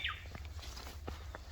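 A single quick bird chirp sounds faintly at the start, followed by soft rustling and light outdoor noise.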